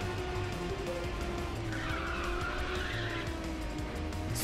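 A race car in Ridge Racer 6 fires a nitrous boost, its engine roaring steadily with tire squeal and a rising whoosh, loud and continuous with no talk over it.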